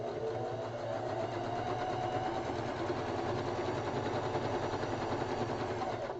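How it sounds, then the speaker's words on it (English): A sewing machine stitches a quarter-inch quilting seam in a steady, continuous whirring rattle that stays even and fairly quiet throughout, with no talking. "Put my foot down on it and sew that 1/4 inch seam."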